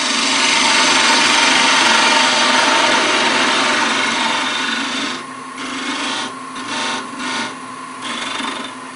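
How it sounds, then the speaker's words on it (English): Parting tool cutting a wooden peg blank on a lathe, sizing it to fit a 3/4 inch collet chuck: a steady, loud rasping scrape that holds for about five seconds, then breaks into short intermittent bursts as the tool eases on and off. "I'm going to take my parting tool and just take it down just a smidgen more"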